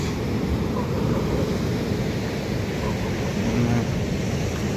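Strong ocean waves crash on a beach in a steady, loud wash of surf mixed with wind buffeting the microphone, continuous throughout without clear speech.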